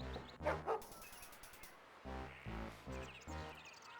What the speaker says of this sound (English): That dog, if I were you, Jim, is suffering from rabies.